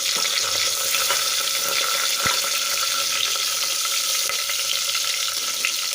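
Curry leaves and finely chopped green chillies fry in hot oil with a steady, dense sizzle and crackle, close up and continuous, with a faint stir partway through and no talk.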